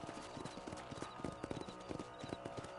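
Horse hooves clip-clopping at a steady gait in the video game Red Dead Redemption, a close, clear, rhythmic run of hoof strikes heard alone with faint background.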